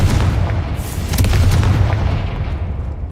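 Confringo fire spell in Hogwarts Legacy bursts in a loud, deep booming explosion with a crackling tail that fades over a few seconds.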